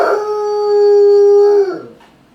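A pet dog lets out a single long, loud howl close by, holding a steady wavering pitch before breaking off into a brief whimper at the end, with no talking.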